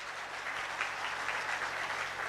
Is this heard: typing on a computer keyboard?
no